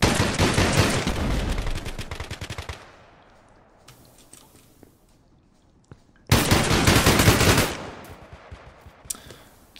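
Rapid SMG bursts in the first-person shooter Exverse rattle loudly for a few seconds, fall silent with faint scattered sounds, then erupt in a second close, sustained burst.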